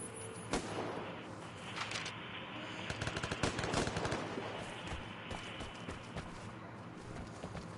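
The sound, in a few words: gunfire in a video game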